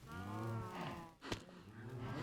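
Cows mooing on a small cow farm in the space survival video game In The Cosmos, with several long, drawn-out lowing calls overlapping close by, plus a brief thump partway through.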